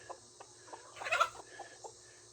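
Turkeys gobble faintly in the distance on a homestead, a burst of rattling gobbles in the middle among scattered soft clucks, with low steady background hum.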